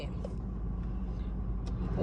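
A car engine idles steadily right after being started, a low, even rumble filling the space, faint and continuous under occasional nearby talking.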